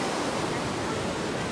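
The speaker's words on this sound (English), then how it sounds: "you can see the river flowing down there" River flowing below a trail at Copper Falls State Park in Wisconsin, a steady broadband rush of water heard from a distance, even and unbroken for a brief moment with no voices.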